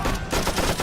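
Gunfire in a Vietnam War battle (1964–1965), loud and continuous cracking of bullets in a dense, overlapping barrage with no pause.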